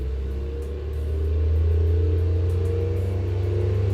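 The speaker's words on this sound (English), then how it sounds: "I don't know what that truck's doing, but it's now outside my house a little bit, doing stuff, so it's probably quite loud." A truck idles and works just outside a house, a loud low engine rumble that swells slightly after the first second and holds steady, with no voices.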